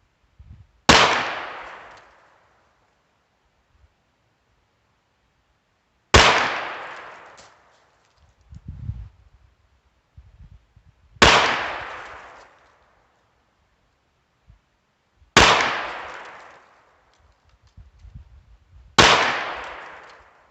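Ruger Wrangler birdshead revolver firing Winchester white box ammunition outdoors, five sharp single shots spaced several seconds apart, each a loud crack with a short decaying tail, with faint shuffling and handling noise between.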